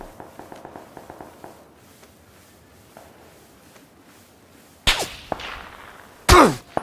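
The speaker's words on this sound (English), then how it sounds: "There's gunshots right in front of me." Faint rapid taps and distant pops give way to two loud, sharp gunshot cracks near the end, each with a brief echoing tail, in the video game Ark.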